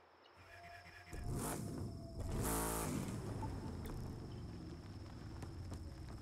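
A Corvette Stingray's engine revs hard in a drag race in the video game The Crew 2, swelling in two loud surges that settle into a steady, sustained roar.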